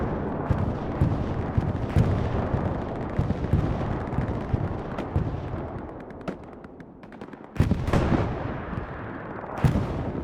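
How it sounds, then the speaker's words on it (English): A bombing run in the World War II shooter Hell Let Loose sets off a rolling series of heavy, booming explosions and rumbling blasts, loud and dense, easing briefly before sharp new detonations strike, with no talk heard. "ESPT coming in with a huge bombing run"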